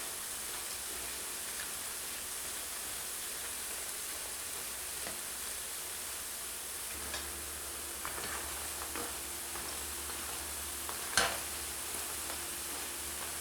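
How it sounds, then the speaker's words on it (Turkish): Soft continuous sizzling of lokma dough balls deep-frying in oil over medium heat, with a few faint clinks and stirring sounds and one brief louder tap. "Orta hararetli ateşte kızartıyorum. Arada da karıştırıyorum."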